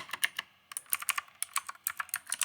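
Fast bursts of typing on a computer keyboard running a GW-BASIC to QBASIC session, crisp close clicks in quick irregular runs with brief pauses, no talk.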